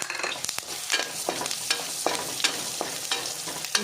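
Masala with coriander powder fries in hot oil on a low gas flame, with a steady sizzle and regular scraping strokes of a stirring spoon close up.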